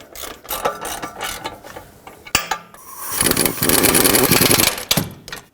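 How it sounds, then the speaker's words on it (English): Ratchet snugging bolts on a 2015-2020 GMC Yukon brake assembly: quick clicking ratchet strokes close up, building into a fast, loud run of clicks near the end. "thread the bolts on. Snug them up."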